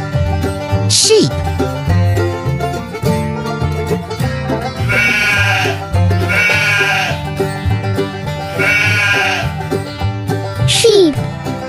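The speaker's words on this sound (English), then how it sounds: "Sheep." Sheep bleats ring out a few times over a lively music backing, each call drawn out and fairly loud.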